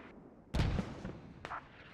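Distant mortar fire from the south in a military video game, heard as a heavy low boom followed by a second fainter thud about a second later against steady background noise.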